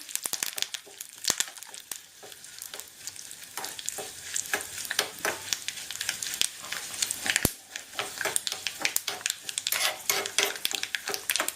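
Tomato pachadi paste gently sizzling in a pan over a medium flame, with soft crackling, intermittent stirring scrapes and clinks of a utensil against the vessel.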